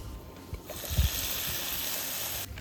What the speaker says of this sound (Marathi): जरा ह्यात पाणी टाकूया आपण.